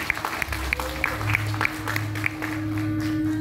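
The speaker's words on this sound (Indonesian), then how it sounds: "Pak Kendus, tepuk tangan untuk beliau sekali lagi." A crowd claps for the head of the Wayang Orang Bharata association at its 50th anniversary celebration. The applause is moderate and continuous, mixed with a steady hum and regular tonal pulses.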